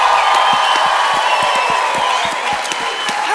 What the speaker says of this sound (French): Come on, come on. Allez, on applaudit Jésus plus puissamment.